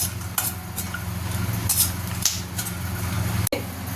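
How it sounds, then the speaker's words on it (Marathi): Almonds roasting in ghee in a pan give off a steady low sizzle, with occasional soft stirring scrapes and a sharp clack of a utensil near the end. "आता तुपामध्ये मी थोडे बदाम भाजून घेते"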